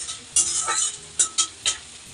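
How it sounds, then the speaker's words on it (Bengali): Onions sizzle in a pan as a utensil stirs them, giving a soft continuous fry punctuated by four distinct scraping sweeps, close up and with no talking. "পেঁয়াজটা একটু ভাজা হয়ে গেলে আমি দিয়ে দেবো টমেটো"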